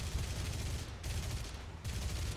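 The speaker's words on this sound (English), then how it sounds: "I accidentally shot down that guy that I didn't even mean to" Aircraft machine guns firing in War Thunder, a Hurricane-era dogfight: three rapid bursts of rattling gunfire over a steady engine drone, fairly faint and distant, with brief gaps between bursts.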